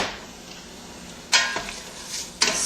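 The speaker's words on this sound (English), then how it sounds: "It's time to throw in your onions. Start cooking those." Onions frying in hot oil give a steady soft sizzle close by, broken by two sharp scraping clatters of a utensil stirring against the pan.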